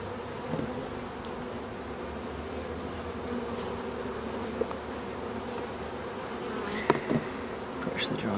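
Honeybees swarm around open hive frames during an artificial swarming split, giving a continuous close buzzing drone with a few sharper individual passes near the end and no talk.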